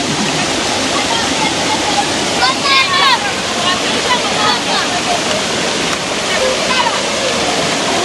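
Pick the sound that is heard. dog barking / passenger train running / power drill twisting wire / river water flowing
river water flowing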